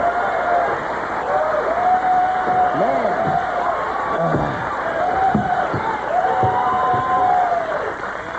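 Studio audience applause for the set of Conan O'Brien's late-night talk show, a loud, sustained wash of clapping mixed with cheers and whoops that carries on without a break.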